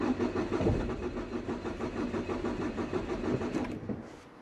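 Car engine running on 100% ethanol cranking over on a cold start, a rapid rhythmic chugging of the starter that churns for about four seconds and then stops without catching, close and fairly loud.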